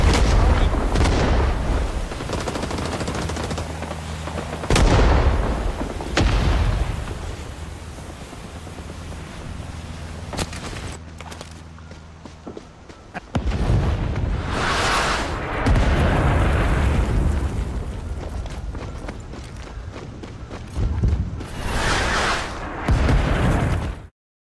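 Explosions in a Vietnam War video game boom again and again, heavy blasts and crackling bursts recurring at irregular intervals amid ongoing battle noise, loud and close.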